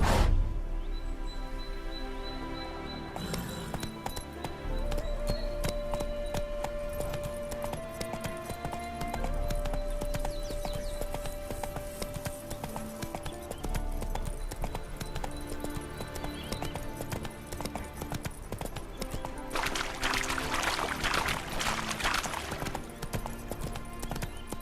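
Horse hooves clip-clop steadily in The Witcher 3 video game, a loud continuous trotting rhythm under layered game music and ambience, with a brief burst of brighter noise near the end.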